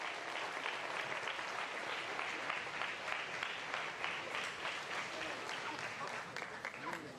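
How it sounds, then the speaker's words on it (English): An audience at a poultry judging event claps for the students, a steady broad round of applause that carries on for several seconds, with some voices mixed in. "let's give all these students a round of applause as they go ahead and exit back to their cages"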